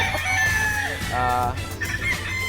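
Gamefowl roosters and brood hens at a game farm, with clucking and crowing calls over a busy, dense background of other birds, fairly loud and close.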